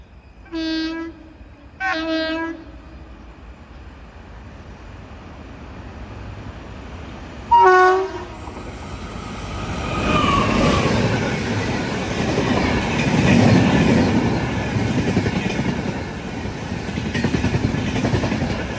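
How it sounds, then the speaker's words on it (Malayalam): Humsafar Express train at Nileshwaram railway station in Kerala, three loud horn blasts followed by the swelling rumble and clatter of the train rolling in and passing nearby. "ഇപ്പോൾ ഒരു ട്രെയിൻ വരും. ഗുജറാത്തിലെ ഗാന്ധിധാമിൽ നിന്നും തമിഴ്നാട്ടിലെ തിരുനെൽവേലിയിലേക്ക് പോകുന്ന ഹംസഫർ എക്സ്പ്രസ്."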